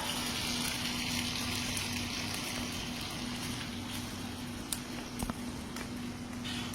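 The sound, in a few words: water poured into frying pan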